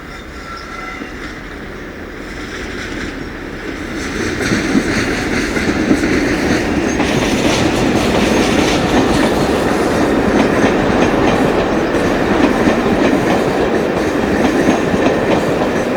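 British Rail locomotive 47822 hauling the Paignton to Glasgow passenger train through Bristol, a loud, steady diesel rumble building as the coaches roll past with rhythmic wheel clatter and some rail squeal.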